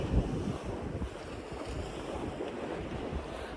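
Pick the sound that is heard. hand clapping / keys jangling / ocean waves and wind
ocean waves and wind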